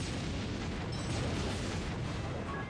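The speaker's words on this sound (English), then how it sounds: "let's go ahead and repeat with our bomb arms" A dense, rumbling explosion barrage from a bomb arms attack in Bravely Default, a fantasy role-playing video game, sustained and fairly loud throughout with no clear individual blasts.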